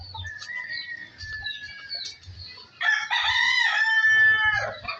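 A rooster crows loudly and close, one long drawn-out call rising then holding, after softer clucks and chirps from other chickens in a yard.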